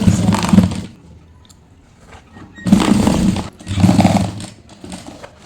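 A sewing machine stitches a cloth bag in three bursts of rapid, rattling running separated by short pauses, loud and close, with no talk over it.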